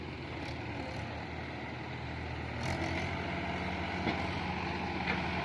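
A Bison tipper truck drives past outdoors with a steady, broad engine rumble that swells slightly midway, joined by faint higher rattles, and no talking over it.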